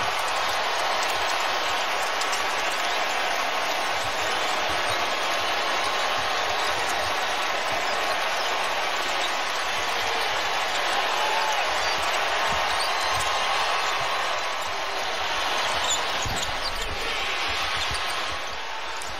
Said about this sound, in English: That woke up the crowd.